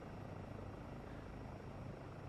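A European helicopter in a PSVR 2 flight game drones with a steady, loud rotor and engine roar, constant and unbroken throughout with no voices.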